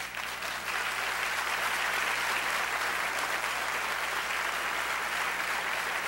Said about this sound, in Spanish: Quiero pedir un gran aplauso